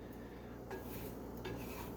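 Eggs being scrambled in a hot pan, with soft scraping of a utensil against the pan and a couple of light clinks over a quiet background.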